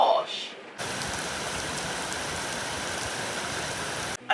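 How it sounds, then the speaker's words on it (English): Heavy rain pours steadily outside as a dense, continuous hiss that holds at an even level for several seconds, stopping abruptly near the end. "Now I'm literally having to shout over the rain"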